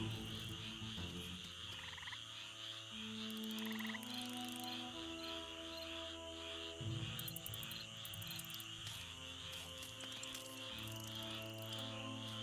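Eastern narrow-mouthed toads calling at night, a steady chorus of buzzy calls layered over persistent insect-like trilling, with some musical tones running underneath throughout.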